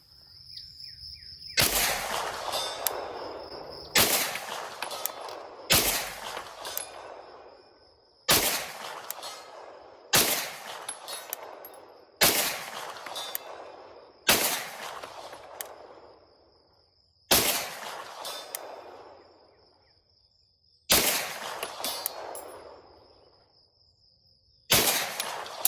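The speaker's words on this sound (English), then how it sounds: "Okay, let's just try the XTP. I'm gonna aim dead on at the head." Springfield Kuna pistol-caliber carbine firing XTP rounds: about ten sharp, loud single gunshots spaced a couple of seconds apart, each with a decaying outdoor echo tail.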